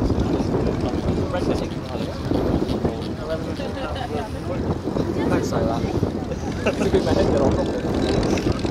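A P-51 Mustang propeller aircraft flies at the Duxford air show, its engine drone rough and sustained with wind buffeting the microphone, while a voice talks over the noise.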